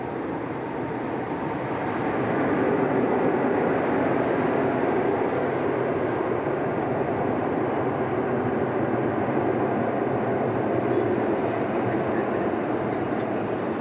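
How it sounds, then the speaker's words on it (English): An American Airlines Airbus A321 arrives at DFW airport. A steady, loud broadband jet roar swells over the first few seconds and then holds level, with faint bird chirps above it and no talking. "It's American Flight 2772 arriving from Oklahoma City on that Airbus"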